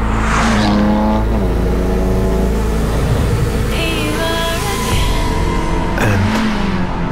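BMW 8 Series Coupé engine revving loudly and continuously, with rising and falling pitch sweeps and gear changes heard up close, and no voices.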